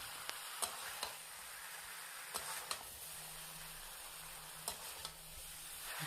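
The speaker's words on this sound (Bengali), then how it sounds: "এরপর আমি ভাজা সবজিগুলো দিয়ে সব একসাথে মশলাটার সাথে ভালো করে কষতে থাকবো" Fried cauliflower, potato and eggplant are stirred into sizzling spice masala in a pan, giving a soft, steady frying hiss broken by occasional sharp clicks of the spoon against the vessel.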